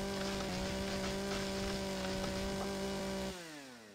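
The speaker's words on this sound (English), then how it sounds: "Use the chainsaw." Chainsaw in the game Empyrion Galactic Survival, buzzing at a steady high-revving pitch while cutting through trees, then winding down near the end, loud and alone.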